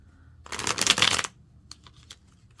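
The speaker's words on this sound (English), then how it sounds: "We're going to do one more shuffle just because that didn't want to." A deck of tarot cards is riffled in one dense, close burst of papery flutter lasting under a second, followed by a few light card taps and quiet handling.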